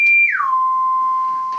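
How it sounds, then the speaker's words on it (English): A pure sine tone from a modular synthesizer oscillator, part of a Hordijk modular setup, glides down in pitch then settles into a steady, loud, unwavering tone, with a faint higher partial running alongside. "I listen to the output of the oscillator, I will just give it a sine wave"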